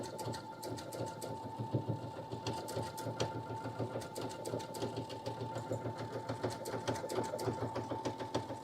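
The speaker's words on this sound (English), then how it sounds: "this one takes a couple seconds to stitch out" A Soprano embroidery sewing machine stitching out a decorative design, its steady rapid needle hum and clatter running continuously and close, with faint voices underneath.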